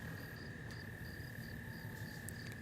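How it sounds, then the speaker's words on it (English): Faint, steady insect chirping with a high continuous trill and soft repeated pulses, calm and quiet in the background. "Hear the crickets."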